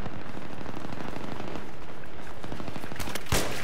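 Sustained light machine gun fire in Battlefield 3, a rapid rattling burst running continuously and loudly, with a sharper blast near the end.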